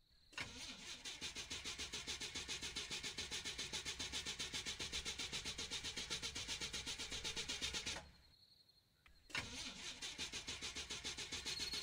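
A car engine in the Cherophobia horror game starts and runs with a steady pulsing idle, cuts out briefly, then catches again and keeps running; it is fairly quiet overall.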